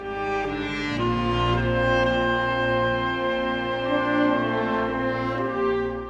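Music in the style of The Legend of Zelda video game plays steadily, with sustained harmonic tones, a steady low bass layer and a full, continuous orchestral texture at even loudness throughout.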